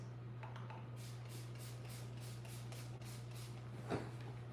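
Wig spray spritzed again and again from a bottle: a faint, steady run of about seven short hissing bursts in quick rhythm, with a soft rustle near the end and no talking.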